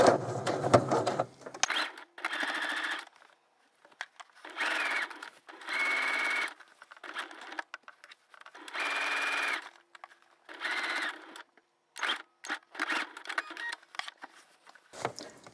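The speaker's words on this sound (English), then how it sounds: "I'm going to backstitch this. That'll give it just a little extra support in the neck area," A sewing machine stitches in the ditch on a child's apron, running in several short, even bursts of whirring with brief pauses between them, close and fairly quiet, with no talk.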